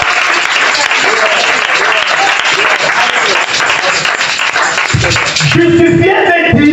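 A church congregation bursts into loud, sustained applause that fills the room, with voices mixed in and the clapping shifting near the end.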